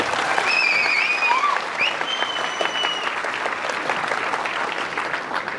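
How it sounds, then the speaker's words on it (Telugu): A crowd at a speech event near Sriharikota breaks into loud, sustained clapping that tapers slightly toward the end, with a few sharp whistles cutting through early on. "మీరు నిజంగా వీళ్ళలో చప్పట్లు కొట్టాల్సిందే వాళ్ళకి"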